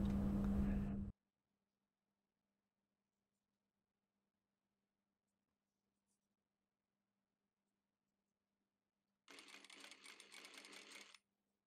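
Sewing machine stitching a folded-over seam edge on net lace fabric for a girl's dress: a short loud burst of stitching at the start, silence, then a second steady stitching run near the end, with no talk.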